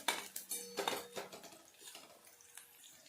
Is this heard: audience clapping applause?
no